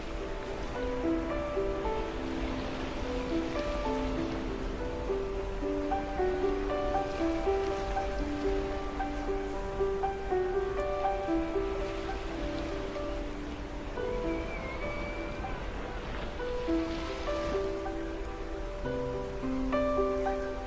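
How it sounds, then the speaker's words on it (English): Continuous rushing surf and wave wash crashing against rocks fills the whole stretch, a steady roar of water with no pauses or voices. "As waves crash and winds howl against the stones"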